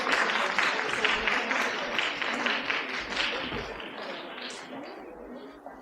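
Loud, sustained applause from an audience at a family dinner gathering, dense clapping that fills the room for several seconds and tapers slightly toward the end.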